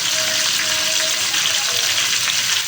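Desi garlic hits hot oil in a pan along with green chillies, setting off a loud, steady frying sizzle that fills the whole stretch without pause.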